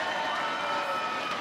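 Steady crowd noise fills a women's wrestling arena as fans cheer the Bully Busters tag team during a match against Abilene Maverick and the Disciplinarian, a continuous roar with no distinct peaks.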